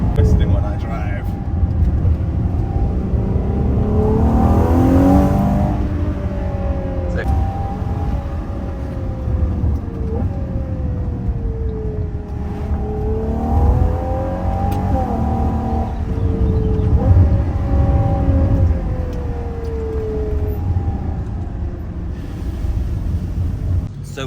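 A Ferrari Purosangue heard from inside while driving on a mountain road, a steady engine drone with gear-change pitch rises and falls, under constant road and wind rumble.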